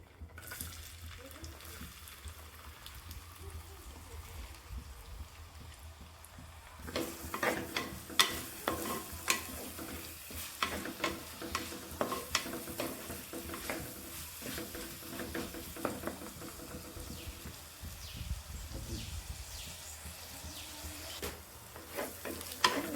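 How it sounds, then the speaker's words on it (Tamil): Small shallots tossed into hot oil and stirred in a pan while frying for a Tamil-style chicken varuval, a steady sizzle swelling to a louder crackle after a few seconds, with the scrape of stirring throughout. "இப்போ எண்ணெய் சூடாயிருச்சுங்க. சின்ன வெங்காயம் போட்டுக்கலாம்."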